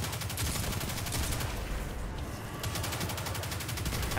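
Sustained rapid gunfire from the video game Destiny, dense overlapping automatic shots rattling continuously at a steady loud level with no voices.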